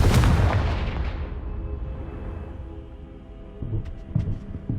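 A Confringo blasting spell detonates in Hogwarts Legacy with a loud deep boom at the start, its rumble decaying over a couple of seconds, followed by a few smaller thuds and crackles, no talking.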